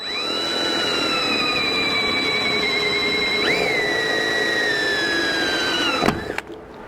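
A power drill whines steadily for several seconds drilling a pilot hole for a roof rack on a Lexus GX 470, its pitch dipping briefly midway, then cuts off with a sharp click and rattle.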